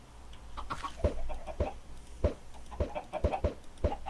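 Chicken clucking in a survival video game, several short, sharp clucks spaced irregularly over a low steady background hum, fairly close and clear with no talking.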